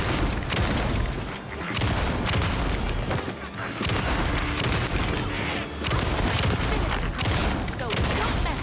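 Video-game gunfire from Alan Wake II comes as loud, dense repeated blasts and booms in rapid clusters, filling the stretch with heavy, continuous shooting.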